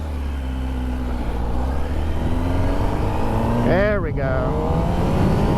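A 2021 Kawasaki ZX10R motorcycle accelerates with a steady, loud engine drone that rises in pitch, heard from the rider's position with wind rush and a brief spoken remark over it.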